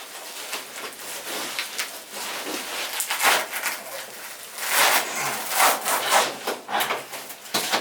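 Synthetic turf is pulled back from glued seam tape, making a rough, continuous tearing and rubbing of fibers and backing that swells in louder bursts, with no one talking.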